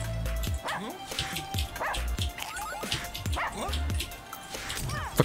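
Dogs in the video game Russian Subway Dogs bark and yip repeatedly at close range in quick, uneven bursts over a steady game background.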